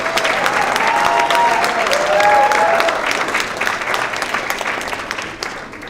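Audience at a gala breaks into sustained applause, dense clapping from a large crowd that swells and then gradually tapers off, with a few faint voices mixed in.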